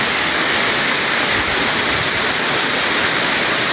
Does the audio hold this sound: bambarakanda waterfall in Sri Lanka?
yes